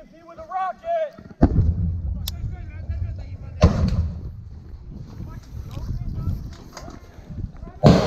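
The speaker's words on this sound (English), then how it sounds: "I'm gonna shoot the BMP with a rocket!" A rocket launched at a BMP armored vehicle in a military shooter video game, with sharp loud blasts near 1.4 s and 3.7 s, then rumbling gunfire and clatter, with voices talking over the action.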